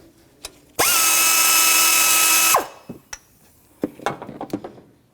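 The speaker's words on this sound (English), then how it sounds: "15mm wrench or socket. You're going to go counterclockwise and back that bolt right off." A power tool spins up loudly for about two seconds, loosening the idler pulley bolt on a 1997-2004 Dodge Dakota, then cuts out, followed by sparse metallic clinks and taps of parts being handled.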